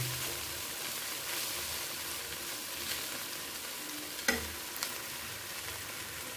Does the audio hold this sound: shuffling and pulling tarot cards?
no